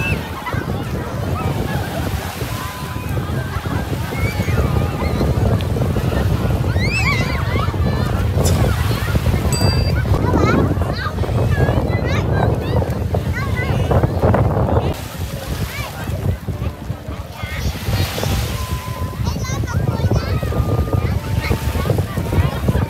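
Sea breeze and waves at Dong Tac beach in Tuy Hoa, Phu Yen, on a hot summer afternoon give a constant broadband wash, partly masked by voices talking.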